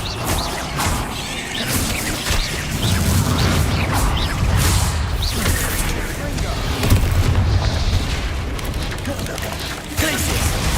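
Booming explosions from the Bombarda spell in Hogwarts Legacy roll continuously with crashes and whooshes, loud and dense throughout, with shouted voices mixed in.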